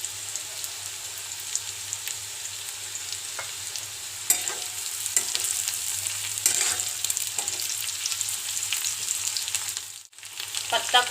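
Carrots stir-fry in a hot pan for Schezwan noodles, a bright continuous sizzle broken by occasional scraping stirs and clinks, close and steady with a brief dip near the end.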